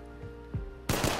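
Gunfire from a gun in a battle royale video game, with a few faint quieter shots leading into a loud, dense burst of rapid shots at the end.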